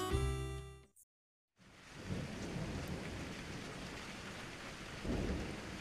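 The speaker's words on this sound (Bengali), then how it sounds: "বর্ষাকাল, ঝমঝম করে বৃষ্টি পড়ছে" Heavy rain falls as a steady, full roar after a short burst of music and a brief silence, with deep thunder rumbles swelling through it twice.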